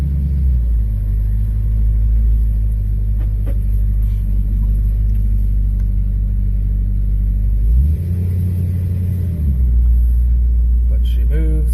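Chevrolet S10 pickup with an Oldsmobile 350 Rocket V8 driving, a loud steady low engine rumble with a brief rise in revs partway through, heard from inside the cab.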